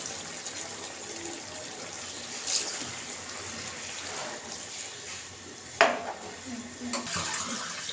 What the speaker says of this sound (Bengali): তো প্লেটটা ধুয়ে আমি ঝোলটা দিয়ে দিই